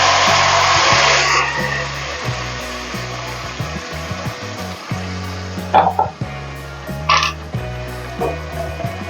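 Ground ginger, garlic and tomato paste hit hot oil with a loud, steady sizzle that fades from a fierce hiss, while a low motor hum runs throughout and a couple of sharp utensil scrapes cut through near the end.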